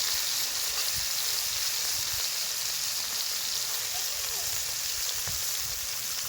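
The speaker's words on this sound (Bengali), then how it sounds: "পেঁয়াজ পাতাটা আমার একটু কিছুক্ষণ ভাজা হতে থাক" Spring onion greens fry in a wok after fish has been cooked in it, giving a steady, even sizzle and hiss that runs unbroken and fairly close, with no one talking.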